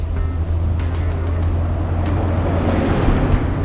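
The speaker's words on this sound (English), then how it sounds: "I'm cruising Interstate 35 at a nice steady 55." A Cummins-powered diesel pusher RV cruising Interstate 35 at a steady 55 mph, giving a continuous low engine drone with broadband road and wind noise, loud and unbroken throughout.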